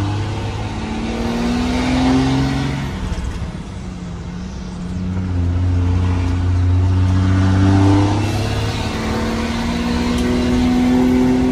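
A car engine revs and accelerates up through the gears outdoors, the steady drone rising and falling in pitch across the stretch, loud and close with no voices over it.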